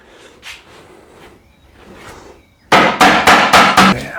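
Sharp, loud hammer blows drive nails into the wooden frame of a homemade raised garden bed: about five rapid, evenly spaced strikes after a quiet stretch of faint shuffling.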